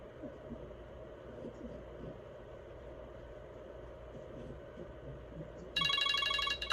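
A telephone rings with an unknown caller on the line. The electronic ring starts near the end and is loud over a steady background hum and rumble.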